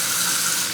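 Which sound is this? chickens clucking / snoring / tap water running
tap water running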